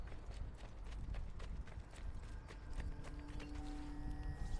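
Steady clip-clop of horse hooves at a trot in the video game Assassin's Creed Brotherhood, fairly faint under a constant wash of ambient noise, with no talking.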